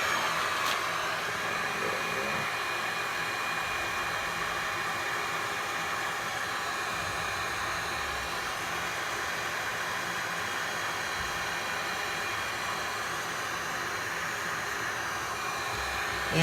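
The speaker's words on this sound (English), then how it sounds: "Trying to blow that back over there now." Steady airy rush of air blown across an alcohol ink painting being embellished and resined, a continuous hiss at even loudness throughout, close and uninterrupted.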